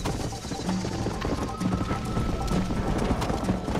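Galloping horse hooves in the Red Dead Redemption video game, a dense, steady rhythmic pounding that stays loud and close for the whole stretch with a faint whinny mixed in.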